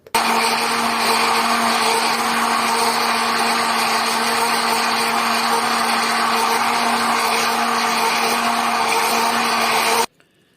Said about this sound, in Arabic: نضرب بقى الخلاط